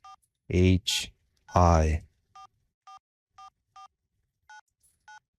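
Cell phone keypad beeping as a text message is typed, a run of short, evenly spaced electronic tones following two bursts of someone talking.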